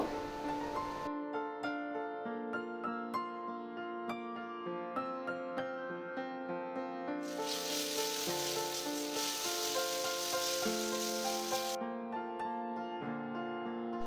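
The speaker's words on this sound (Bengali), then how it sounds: "দু মিনিট মশলাটা কষিয়ে নেব।" Spice paste for raw banana kofta curry fries in a pan, its sizzle loud in the middle stretch and faint elsewhere beneath steady instrumental music.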